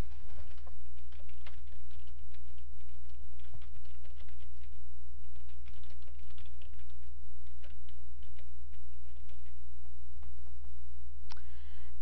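Steady typing on a computer keyboard, a close, continuous patter of key taps running the whole stretch over a low constant hum, with no talking.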